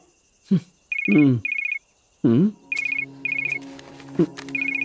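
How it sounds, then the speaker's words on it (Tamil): A telephone rings with an incoming call in a movie scene. Short bursts of a trilling electronic ring repeat in a steady pattern between spoken lines, fairly close and clear. "ஆபீஸ்ல இருந்து கால் பண்றானுங்க."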